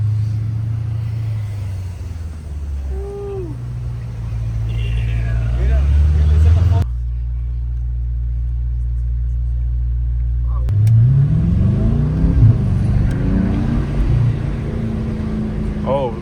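A 650 hp Mercedes-AMG GT63 S driving on Beverly Hills city streets, deep engine rumble rising and falling as it accelerates and revs, loud and close from inside the cabin, with people talking over it at times.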